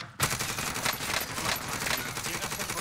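Rapid, continuous automatic-weapon gunfire in the video game Warzone starts abruptly and keeps rattling, loud and dense, with no voices over it.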